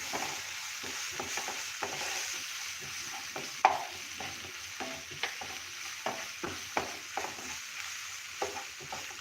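Ginger-chili paste stirred into spiced masala in a hot pan for samosa filling, frying with a steady sizzle under repeated scraping and stirring clicks, close and moderately loud, with no talking.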